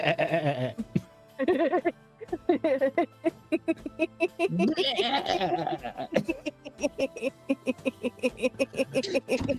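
A voice mimics a goat with a run of trembling, nasal bleats close up. Chuckles and laughter from others mix with it, and talk follows.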